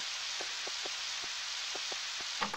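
Steady hiss of rain falling in the video game Harvest Moon 64, a continuous even wash of noise with faint soft taps scattered through it and a brief clatter near the end.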